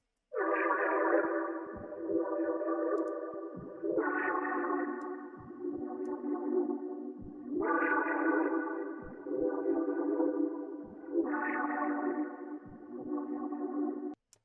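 A looping sample drenched in Fruity Chorus, flanger and reverb in FL Studio repeats in four swelling phrases, with a shimmering, warbly tone and echoing tails, no voices.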